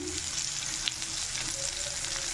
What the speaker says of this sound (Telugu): తరిగి పెట్టుకున్న ఆనియన్స్ అలాగే పచ్చిమిర్చి కరివేపాకు అయితే వేసేసుకున్నాను వీటిని ఇలా బాగా వేసుకోవాలి ఇలా వేగుతూ ఉన్నప్పుడు